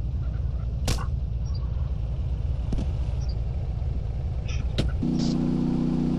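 A car engine in a video game revs and accelerates in a steady loud drone, with a couple of sharp clicks and a deeper engine tone that rises near the end.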